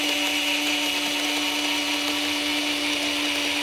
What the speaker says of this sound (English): I can go ahead and even use my Dremel tool while it's spinning